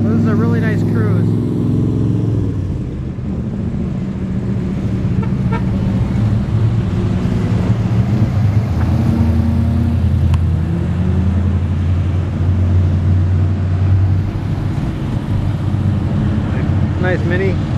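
Classic cars cruise past at a St Ignace car show, with a continuous loud mix of engine rumble and traffic noise and occasional toots, steady throughout the clip.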